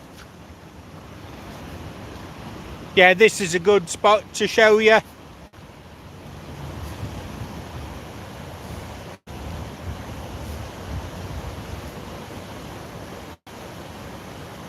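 Steady wind-driven waves wash across open water, a constant broad rush with microphone buffeting, and someone speaks briefly early on over the surf.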